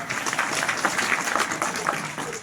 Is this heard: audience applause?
yes